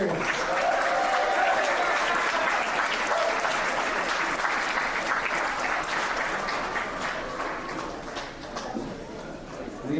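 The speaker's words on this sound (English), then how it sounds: "Give a big round of applause to all our players." Sustained applause from a large crowd at a high school esports state championship final, dense steady clapping that carries on for the full stretch and tapers slightly near the end.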